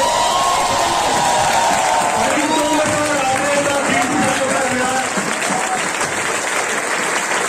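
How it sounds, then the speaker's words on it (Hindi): Loud, dense applause from a large crowd at a direct selling company event, continuous throughout, with voices and some cheering mixed in. "जोरदार तालियां होनी चाहिए सर के लिए।"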